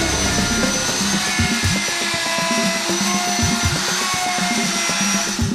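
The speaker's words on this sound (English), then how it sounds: "Now route out your first hinge location." A power router with a Sieg hinge jig cuts a door hinge recess, giving a loud, continuous high whine with a rapid, uneven chatter as the bit bites into the wood, close up and without talk.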